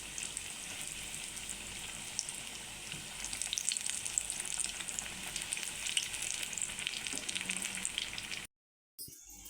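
Bread bonda snacks fry in hot oil and are turned slowly, making a steady bright sizzle with light bubbling and a few soft stirring touches, before a short sudden silence near the end.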